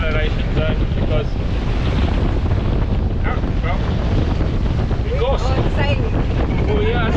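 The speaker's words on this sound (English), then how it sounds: "we are sailing. And we've got some good wind and good speed." Strong wind batters a sailboat under way at good speed, a loud continuous roar of wind buffeting the microphone mixed with rushing water, while people talk faintly in the background.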